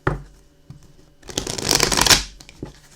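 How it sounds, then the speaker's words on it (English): A deck of playing cards is shuffled, with a couple of soft taps followed by a quick riffling flutter of cards, close and clear. "This is my favorite way to shuffle."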